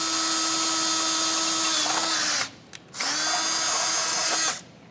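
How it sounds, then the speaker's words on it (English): A power drill bores holes for a Blue Ox base plate on a 2026 GMC Sierra 1500, starting with a pilot bit: a loud, steady whine that stops briefly and then resumes before cutting off. "that way you know exactly where to drill out."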